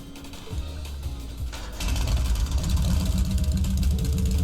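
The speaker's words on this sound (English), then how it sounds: "Alright, I'm going to start the engine now." A motorbike engine in the video game Trails of Cold Steel turns over and catches about midway, then settles into a steady, loud idle rumble with no talking.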